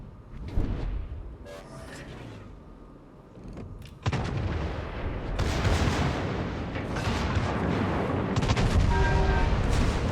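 Tirpitz battleship main guns fire salvos in World of Warships, giving repeated heavy, booming blasts that roll into a dense, sustained rumble of loud gunfire.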